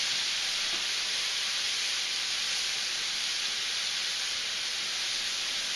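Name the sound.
white wine sizzling in a hot pan with garlic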